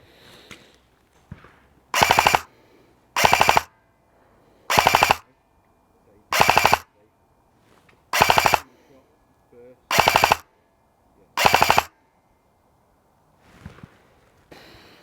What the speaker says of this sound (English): So we're going to do some full auto bursts